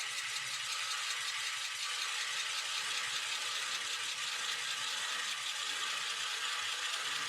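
A carbide Forstner bit boring into cherry wood at around 300 to 400 RPM gives a steady, faint, gritty rattling grind with fine chattering texture, continuous and even throughout.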